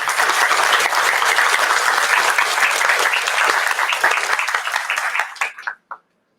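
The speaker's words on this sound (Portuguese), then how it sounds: "Então, peço uma salva de palmas," An audience applauds at the close of an academic event, loud dense clapping from many people that carries on steadily, then thins out and stops with a few last claps.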